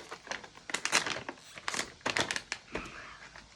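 The plastic wrapper of a chocolate-coated frozen strawberry crinkles and crackles in sharp, uneven bursts as it is pulled open close by, with brief pauses between handling noises.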